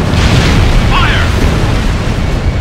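A tank blowing up in the Ace Combat Infinity video game, a loud, dense booming roar that fills the whole moment without letup, heavy and close in the mix.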